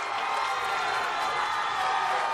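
Crowd at a boys state bowling final cheering and applauding from the rooting section, a steady roar of voices and clapping with a voice talking over it.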